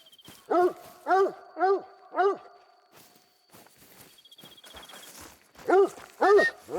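A hunting dog in theHunter: Call of the Wild barks four times in a quick row, then twice more after a pause, loud and close over outdoor ambience and faint chirping.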